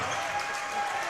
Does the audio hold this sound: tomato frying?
no